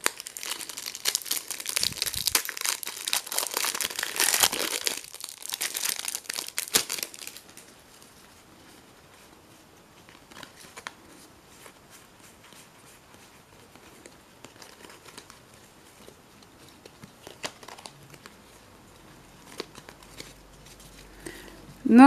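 Foil WWE Slam Attax 2020 trading card booster packs torn open, a loud run of crinkling and ripping wrapper for about seven seconds, then quieter card handling and faint rustles.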